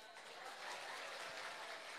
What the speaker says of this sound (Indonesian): Ibu minta tepuk tangannya.